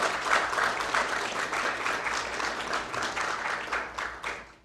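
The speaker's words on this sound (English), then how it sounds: "let's take a pause to give a round of applause for the team at the Belize Fund" Moderately faint audience applause at an awards ceremony, a steady mass of clapping from a hall crowd that swells slightly and trails off near the end.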